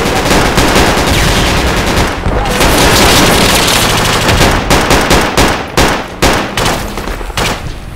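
Machine gun fire in the tactical shooter Project Reality for Battlefield 2, loud dense bursts of rapid automatic shots, some blending into continuous roar, later breaking into separate short bursts, with faint voices underneath.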